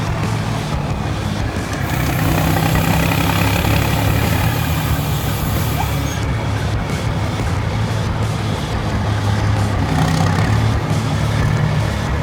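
A modified Peterbilt 389 truck idles nearby, a steady, loud, low engine rumble with a constant droning hum running unbroken throughout and no voices over it.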